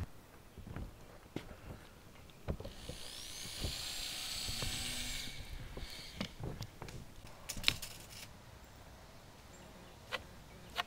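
A power drill drives screws into a mobile home trailer roof, with a sustained high whine for a few seconds amid sharp clicks and knocks of work on the roof, close and moderately loud.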